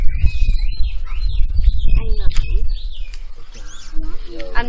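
Birds chirp and tweet in short, high calls at a rural countryside home, scattered through the clip under close cooking noises and clattering.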